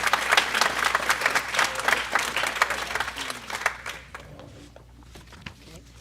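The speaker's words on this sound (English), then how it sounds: "Let's give all the candidates a round of applause now." An audience claps for the candidates at a hospital board forum ahead of an August 2024 primary. The applause is dense and sustained, then thins out and fades toward the end, with a few scattered claps left.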